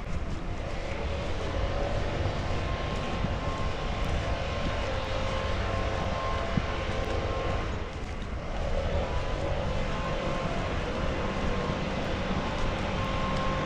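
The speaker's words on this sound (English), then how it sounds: "we always have the guy blowing leaves" A leaf blower runs outdoors near a wooded nature center, giving a steady, fairly loud engine drone that holds for the whole stretch with only a brief dip partway through.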